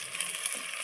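Chicken leg pieces hit a pan of frying onion and ground spice paste for a dry curry, giving a steady close broadband sizzle and crackle with no pauses.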